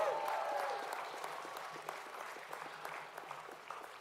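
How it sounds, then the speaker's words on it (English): Sustained applause from a crowd at a high school commencement ceremony, steady dense clapping that starts full and gradually eases off, with individual claps becoming more distinct as it fades. "Another round of applause, everyone, come on."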